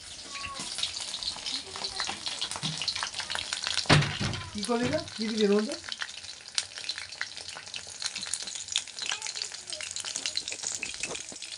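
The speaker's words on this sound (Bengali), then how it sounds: "আমি সন্ধ্যাবেলা পকোড়া ভাজছি" Pakoras sizzle and crackle in hot oil in a home kitchen during the evening, with stirring scrapes and a brief spoken exchange in the middle.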